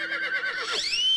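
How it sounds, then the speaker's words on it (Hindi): A horse whinnies in a loud, close, drawn-out neigh with wavering pitch that rises into a high sustained squeal at the end, heard alone without talk. "अरे ये तो एक्स्ट्रा घोड़ा आ गया"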